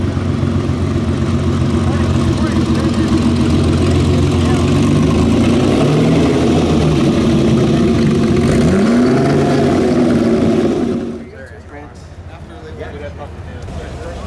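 A Ferrari Testarossa engine runs loud and steady at a car concours event under a speaker's voice, with a brief rising sweep near the end before the level drops sharply to a quieter background.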